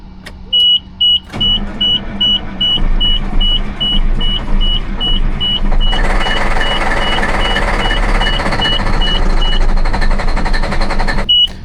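A military HEMTT truck with a leaking fuel filter, started using ether: a vehicle beeper chirps repeatedly as the engine cranks, then a loud rough diesel roar builds and runs steadily, close by.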